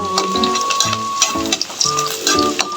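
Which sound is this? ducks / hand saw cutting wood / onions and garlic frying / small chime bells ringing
onions and garlic frying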